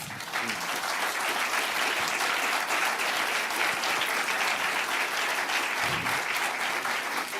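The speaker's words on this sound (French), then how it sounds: "Vous pouvez les applaudir." A conference audience at a regional cooperatives congress gives sustained, dense applause, steady and loud throughout.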